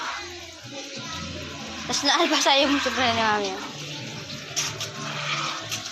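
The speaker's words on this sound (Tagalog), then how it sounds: "shower." Running water from a shower pours steadily while a pet is bathed, with a child and an adult talking over it throughout.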